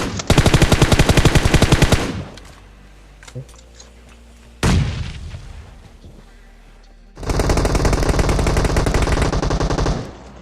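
PUBG Mobile gunfire comes in loud, close bursts of rapid automatic shots: a long burst, scattered single shots, a heavy blast, then another sustained volley.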